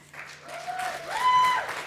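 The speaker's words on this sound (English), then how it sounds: "if I can get a round of applause for them" An audience at an alumni and friends awards event breaks into a short round of applause, fairly soft and building over a couple of seconds, with no voice on top.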